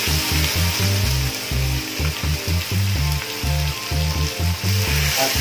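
Meat for Bicol Express frying in a pan, a loud steady sizzle broken by rhythmic bursts of scraping as it is stirred, with no voices.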